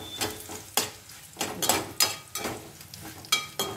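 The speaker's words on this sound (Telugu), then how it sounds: "లాస్ట్ వాయికి జీలకర్ర వేసేసి, జీలకర్ర కొంచెం ఆయిల్లో మగ్గనియాలి" Cumin seeds sizzle in hot oil in a pan with a steady crackle, broken by repeated scraping strokes of a spoon or spatula.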